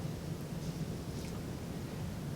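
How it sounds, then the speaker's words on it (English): Rain starting to fall as a steady, even wash of soft noise with a low rumble underneath, constant throughout and without any voices. "We listen to rain as it begins to fall."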